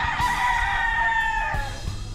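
Gamefowl roosters on a hillside farm crow loudly and close, one long cock-a-doodle-doo over a background of other clucking chickens.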